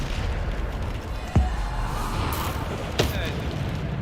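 Bombarda spell blasts in the Hogwarts Legacy video game, two sharp booming bursts a second and a half apart over a steady rumble of game sound, with a voice talking in the background.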